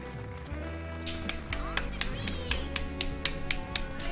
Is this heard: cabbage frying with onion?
no